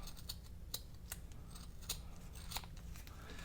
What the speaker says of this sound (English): I'm going to go ahead and trim those little frayed pieces off.